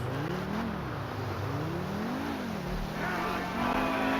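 Supercar engine in the video game GTA 5 Online, a continuous revving drone rising and falling in pitch as the car speeds along, with faint voice activity at times.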